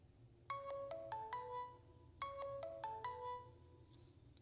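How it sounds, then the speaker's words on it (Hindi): A mobile phone ringtone plays two short repeated melodic phrases, clear and alone against a quiet background. "अपने सामने फोन बजते देखा और उसे अनदेखा कर दिया"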